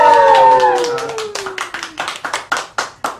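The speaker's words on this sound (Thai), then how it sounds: "ขอเสียงปรบมือครับทุกท่านครับ" Scattered handclaps from an audience greet a giveaway winner, starting faintly under a fading tonal sound and firming into separate claps, close and moderately loud.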